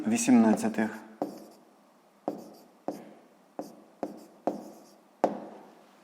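A pen writes out a math exercise answer, with a series of sharp taps and short scratching strokes spaced about a second apart, following a brief spoken phrase at the start.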